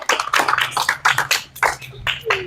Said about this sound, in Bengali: বাচ্চা একটু হাততালি দাও সবাই